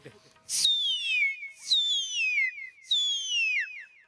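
A human voice imitates a firecracker whistling before it bursts, producing three falling, high-pitched whistles in a row, each sliding downward and separated by short pauses, close and clear after a brief spoken lead-in.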